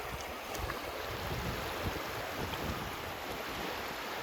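Wind gusts steadily across Yellowstone Lake during a canoe trip, a dense, continuous rushing roar buffeting the microphone close by, with faint water lapping mixed in.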